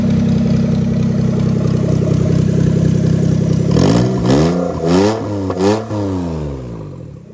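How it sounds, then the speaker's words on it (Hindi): A Suzuki Alto with a 660cc automatic engine runs close by, first at a steady idle, then revved up and down several times in quick bursts before settling back. "तो ये गाड़ी भी स्टार्ट हो गई है"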